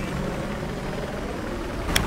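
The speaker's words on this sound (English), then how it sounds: "the jet is hovering over there" Steady low engine drone of a fighter jet hovering in Battlefield 4, a continuous rumbling hum with a brief sharp click near the end.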